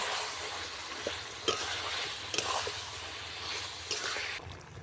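Chilli and turmeric powder stirred into a pan of hot oil for achari chicken, a steady sizzle with repeated scraping strokes of a spatula against the pan, close and fairly loud, no talk.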